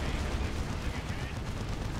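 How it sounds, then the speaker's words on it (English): Demolisher Cannon firing in a Dawn of War 2: Retribution 3v3 match, heavy booming gunfire layered with continuous battle noise and explosions, loud and dense throughout, with a commentator's voice mixed in. "And there's a Demolisher Cannon."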